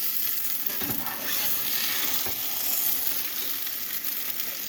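Leftover mashed potatoes frying in a pan, a steady close hiss and sizzle of hot oil with occasional soft scraping stirs.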